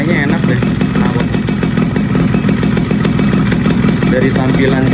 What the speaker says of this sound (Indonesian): Garing suara sih, kayaknya enak deh knalpot.